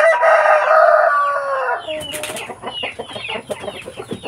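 Native chickens on a provincial farm: a loud rooster crow rings out first, then a busy run of close, choppy clucking and short calls from several birds.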